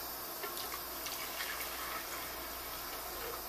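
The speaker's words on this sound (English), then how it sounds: "Pour it in the blender." Water pours steadily into a blender with a soft, continuous splashing hiss, fairly quiet and without any talking.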